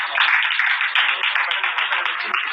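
Audience applause at an on-stage event honoring Amitabh Bachchan: a dense, steady wash of many hands clapping, fairly close and loud, continuous across the moment without talk.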